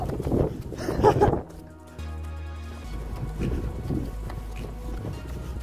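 Wind gusts into the microphone on a nature hike outdoors, buffeting in uneven bursts that rise and fall, loud at first and then easing into a steadier low rumble with faint rustling.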